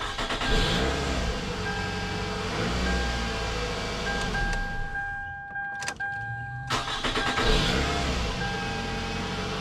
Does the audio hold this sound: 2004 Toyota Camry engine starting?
yes